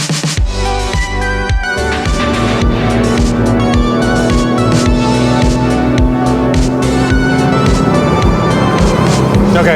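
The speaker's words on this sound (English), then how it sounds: "Never know what's going to happen when you're driving a Ford Probe." 1997 Ford Probe GT heading down a hill, a loud steady engine drone with road and wind roar filling the whole stretch from inside the car, no talk.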